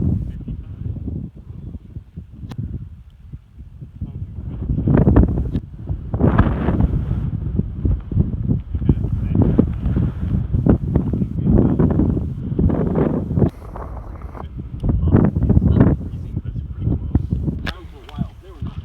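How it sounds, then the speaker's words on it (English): Strong gusty wind on an open, treeless mountain trail buffets the microphone in loud, rumbling surges that rise and fall throughout, with brief faint talk mixed in. "It is super windy because there's no trees up here"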